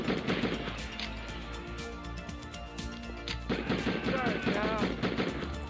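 Rapid bursts of gunfire from shooting enemies in the 1996 PlayStation game Die Hard Trilogy, dense and continuous with crashes and game effects over a steady low rumble.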